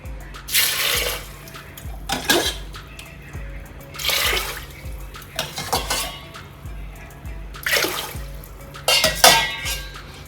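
Water poured into a pot of urad dal and green gram in a home kitchen, a few splashy pouring bursts separated by pauses, with light clinks of the pot and utensils, close and moderately loud.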